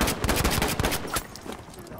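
Rapid bursts of suppressed gunfire from a weapon in Battlefield V, a quick string of close, evenly spaced shots that taper off after about a second, with no talking over them.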